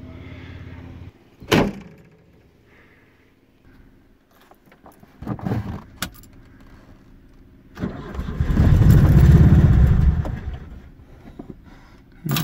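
A ZAZ-965 car with its engine cranking and catching, preceded by a door thump and clunks, then a loud rough roar as it starts and runs, heard close with no talking.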